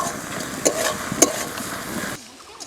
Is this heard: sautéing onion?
yes